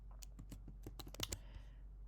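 Rapid, uneven keystrokes clatter on a computer keyboard as an equation is typed out, a quick run of close, crisp clicks with no talking.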